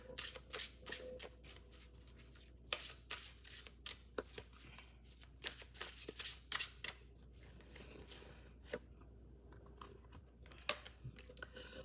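Oracle advice cards being shuffled by hand, giving a quiet run of irregular papery riffles and soft slaps that come in bursts and pauses for about twelve seconds, with no talk over them.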